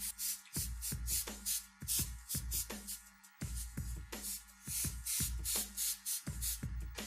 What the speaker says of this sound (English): You're going to have to get an airbrush that actually allows you to taper some of these intense little